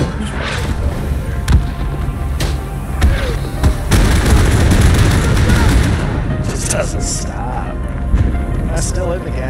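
Rifle fire and booming mortar shots in the WWI shooter Isonzo, dense overlapping cracks and blasts at varied distances, with a near-continuous barrage and a voice speaking over the battle.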